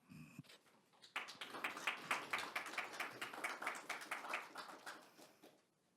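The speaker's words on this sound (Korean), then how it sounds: "박수로 맞이하여 주시기 바랍니다." Audience applause at a 2021 Korean land and transport technology trading briefing, welcoming the head of the science and technology promotion agency to the stage for opening remarks: a steady wash of many hands clapping for about four seconds, then fading out.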